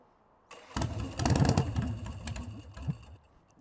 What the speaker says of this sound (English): The starter sounds like a motorcycle.